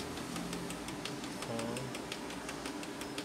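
Canon PIXMA MP287 printer scanning, a steady run of quiet rhythmic ticking and clicking with a brief low motor whir partway through.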